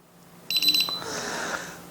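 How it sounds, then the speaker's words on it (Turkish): A fire alarm panel of a DSC alarm system sounds a quick, intermittent burst of several sharp electronic beeps in succession, then gives way to a softer hissing tone. "Sistem yangın alarmında kesik kesik çalmaya başladı."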